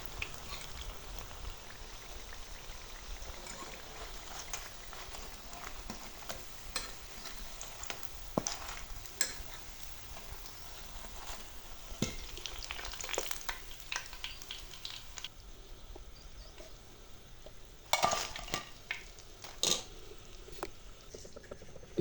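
Potato snacks, crispy aloo chops, frying in hot oil: a steady soft sizzle with scattered sharp crackles and pops, fairly quiet and close, with no one talking.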